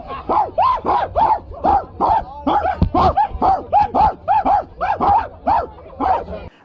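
A dog barks in a steady series of about twenty sharp, evenly spaced barks, loud and close, with a faint low hum behind them.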